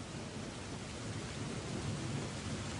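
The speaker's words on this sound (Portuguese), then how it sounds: "A chuva quase sempre veio acompanhada da baixa temperatura." Rain with thunder in Curitiba during a cold, wet May: a dense, steady downpour with a deep rumble of thunder rolling underneath, continuous and fairly loud.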